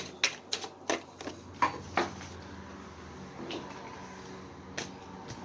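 A deck of divination cards being pre-shuffled by hand, a run of quick, soft riffling snaps and taps spread over a few seconds in a quiet room, fading to near silence.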